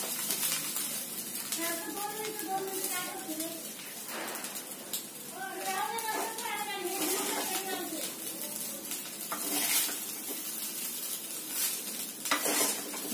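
Jeera rice with cumin and coriander leaves is stirred in a pan, giving a steady scraping and sizzling texture throughout, with a voice speaking over parts of it.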